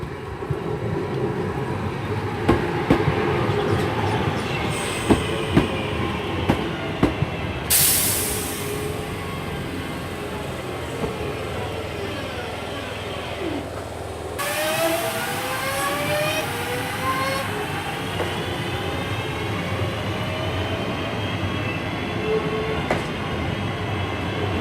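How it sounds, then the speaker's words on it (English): A Class 323 electric train departs Barnt Green station heading for Redditch, giving a loud continuous rumble of wheels and motors with rail clatter and rising whines as it pulls away close by, without talk. "Departing out here's 323 to 11, heading off to Redditch from Four Oaks."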